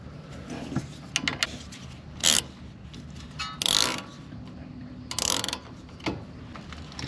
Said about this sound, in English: Going to take our 12 millimeter socket here, our 12 millimeter bolts. We're going to bolt those on right there.